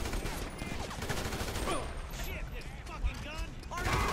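Rapid gunfire fills a Grand Theft Auto V shootout, with dense overlapping bursts and rattling mechanical noise continuing steadily with no pauses, plus faint voices in the background.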